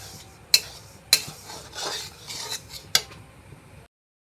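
Rice being fried and stirred in a pan for steamed pitha, with three sharp scraping clanks of a utensil against the pan over a soft continuous sizzle.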